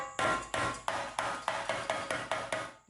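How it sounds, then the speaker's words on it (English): Hammer blows flattening the metal of a Cub Cadet mower muffler during repair, about ten sharp ringing strikes in a steady rhythm, close and loud with no talk. "Let's get a hammer."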